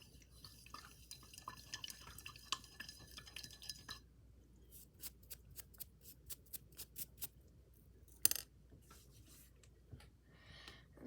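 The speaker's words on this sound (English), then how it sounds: "wash off my brush" A paintbrush is rinsed in water, faint drips and soft tinkling taps against a container with scattered light clicks and a single sharper knock, quiet and close, with no talk.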